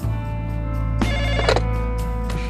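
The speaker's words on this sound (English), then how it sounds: "It was about 1 or 2 o'clock in the morning and my phone rings." A telephone rings in the middle of the night, a close, loud electronic ring sounding in two quick bursts over a steady tonal hum, with no voices.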